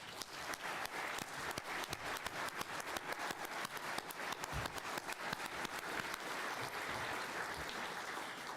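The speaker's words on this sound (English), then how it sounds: "Let's give them a round of applause." An audience at the FEF Awards Ceremony 2024 claps for campaign ambassadors, a dense, steady applause that stays even and lively for over eight seconds with no talk over it.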